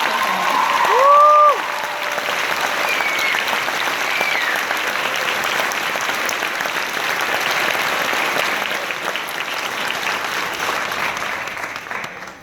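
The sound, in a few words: audience applause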